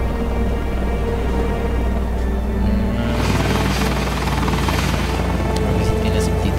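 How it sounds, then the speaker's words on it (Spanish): Helicopter arriving in the video game Dead Island Riptide, a loud steady rotor thrum and engine drone that fills the whole stretch and grows denser partway through, with faint game sounds mixed in. "Un helicóptero ya vino por mí."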